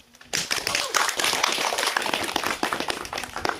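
An audience at a school event claps, dense sustained applause starting abruptly and continuing with sharp individual hand claps throughout.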